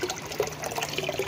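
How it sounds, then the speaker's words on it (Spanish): Water pours into a 100-liter plastic drum, a brief run of trickling and splashing with a hollow, bubbly fill sound, no voices over it. "Acá estoy llenando el tambo. Acá está el agua, mira."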